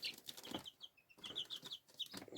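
A small red hen chick, about a week old, clucks and peeps in quick high chirps, close and fairly soft, with faint rustling between calls.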